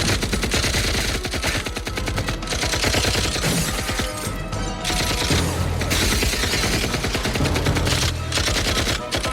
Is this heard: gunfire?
yes